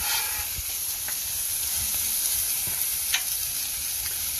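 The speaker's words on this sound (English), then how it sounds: "Let that kind of sizzle a little bit" Food sizzles in olive oil on a Blackstone griddle outdoors, a constant close hiss with occasional soft scraping taps, no talk.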